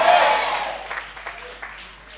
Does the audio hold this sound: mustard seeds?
no